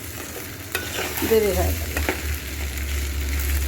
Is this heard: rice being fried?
yes